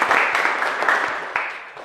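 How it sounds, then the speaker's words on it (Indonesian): Applause for a student in a class, a short burst of clapping from a group of people, fairly loud and steady, with a brief bit of voice mixed in. "kita berikan aplaus dulu untuk Inel"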